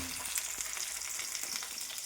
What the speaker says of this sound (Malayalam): പിലോപ്പിട്ടാ നമ്മൾ വറുക്കാൻ